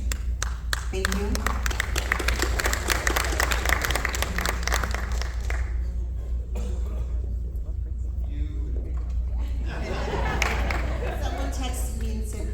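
A crowd at a city commission swearing-in ceremony applauds, with sustained clapping that thins out briefly and then swells again, over a low steady hum.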